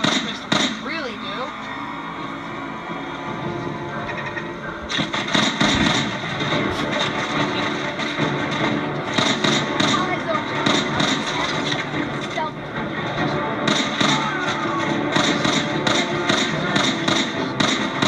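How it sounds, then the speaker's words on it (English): Modded pistol in Fallout 4 fires a rapid series of sharp cracks and thuds, in bursts of several shots with short gaps, loud and close over game background noise. "I'll show you what the pistol does now"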